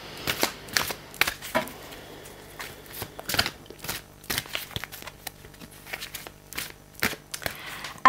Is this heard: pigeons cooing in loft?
no